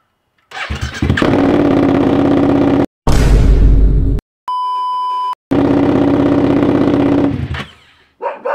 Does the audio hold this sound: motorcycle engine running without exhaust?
yes